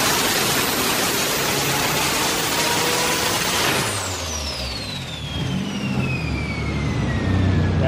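A turbocharged Nissan 370Z engine revs hard and loud, then the pitch drops away and it sputters and stumbles, breaking up at 15 psi of boost during dyno tuning, before picking up again.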